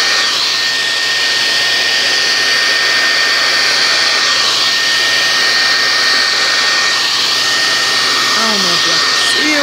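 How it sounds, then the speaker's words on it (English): A blow dryer with a comb attachment runs on its high heat setting, a loud, constant whooshing roar that holds steady throughout with no talk over it. "blow dryer with a comb on the top. And the heat setting, I'm going to put it on high."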